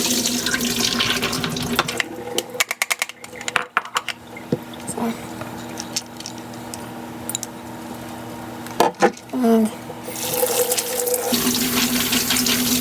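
Yellow split peas rinsed under a running kitchen tap, with a steady rush of water into a sink interrupted by brief breaks, light clinks of a strainer or dish, then the flow returning loudly.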